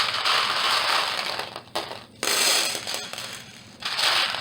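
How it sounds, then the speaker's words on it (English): Small craft beads for suncatchers pour into a pan in a dense, loud crackling rattle that briefly breaks off twice before resuming, with no voices. "we're going to go ahead and take these beads, and we're going to put them in this pan"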